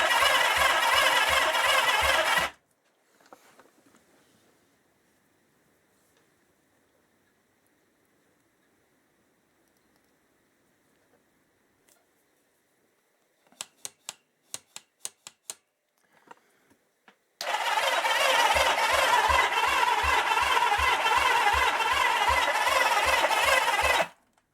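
A 1977 Kawasaki KZ650 B1 motorcycle with carburettor trouble cranks over on the starter in two loud bursts of rapid rhythmic churning, with a quiet gap in between filled by faint clicks and ticking.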